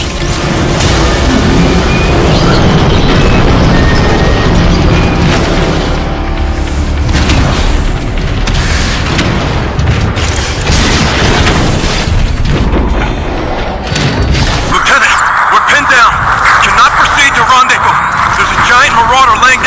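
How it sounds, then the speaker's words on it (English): Marauder firing flak in Transformers: Fall of Cybertron, heavy booms and crashing blasts layered under loud battle noise and spoken voices, shifting to a whining, ringing roar near the end. "Marauder laying down a wall of flak"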